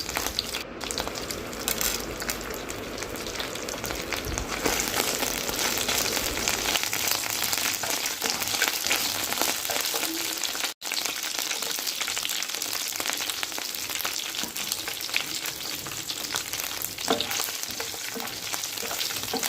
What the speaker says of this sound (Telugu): ఇప్పుడు ప్యాన్ తీసుకుని దాంట్లో ఆయిల్ వేసుకుని అది బాగా వేడయ్యాక ఇవన్నీ కూడా మనం దాంట్లో వేసుకుని బాగా ఫ్రై చేసేసుకుందాం